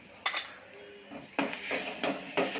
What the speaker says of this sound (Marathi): हिरवी मिरची कोथिंबीर जिरं लसणचा छान परतून घेऊया